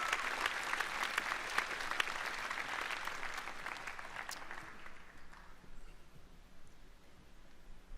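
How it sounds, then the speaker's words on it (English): Applause for a group of distinguished guests, including Army Reserve members, at a live-streamed university ceremony; steady, fairly faint clapping that thins and fades out over the last few seconds. "Please give a round of applause to this group of distinguished guests."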